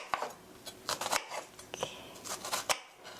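A kitchen knife scores raw tuna in a tight grid at half-centimetre intervals, giving quick close crisp taps and light scraping strokes in an irregular run, with faint clatter between cuts.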